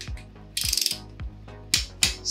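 Ratchet wrench tightening cylinder head bolts on a Nissan 350Z engine, a quick run of sharp clicking bursts repeated several times at close range, with no talk.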